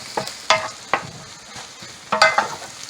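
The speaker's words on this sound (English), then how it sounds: "we're just gonna go ahead and mix this up" Candy bacon breakfast fried rice being stirred and scrambled in a hot pan over medium heat, with scattered scraping strokes of the utensil over a soft sizzle.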